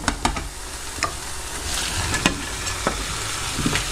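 Pieces of swordfish slide back into a hot pan of tomato and start frying, giving a steady sizzle broken by a few sharp clanks and scrapes from the pan and utensil.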